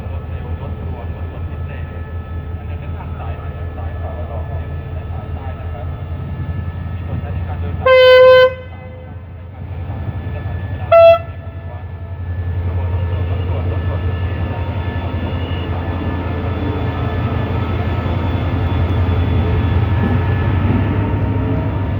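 Ordinary passenger train no. 202 from Phitsanulok to Bangkok, hauled by locomotive QSY no. 5242, arrives at Bang Sue Junction station. A loud, steady, close diesel rumble carries throughout, broken midway by two short horn blasts, and the engine swells again near the end.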